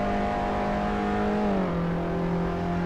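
Fiat Abarth engine in the Assetto Corsa racing game, droning steadily and loud throughout, with its pitch dropping noticeably partway through as if shifting gear or easing off.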